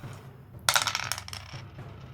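Dice rolled onto a table during a Warhammer Fantasy tabletop battle, a short burst of bright clattering and rattling lasting under a second, close and fairly loud against a quiet room.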